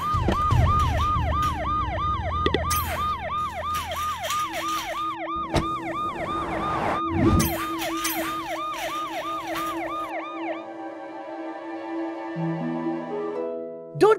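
An ambulance siren in a children's cartoon wails in rapid repeating up-and-down sweeps, loud and close, then cuts off and gives way to other tones.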